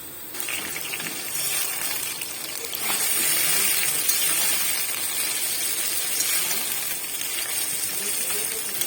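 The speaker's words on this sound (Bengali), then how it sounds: "তেলে কালো জিরে ফোড়ন দিয়ে সেদ্ধ ঝিঙে দেব।" Boiled ridge gourd goes into hot oil tempered with nigella seeds, the soft background hiss jumping to a louder, rushing sizzle a few seconds in and then staying steady.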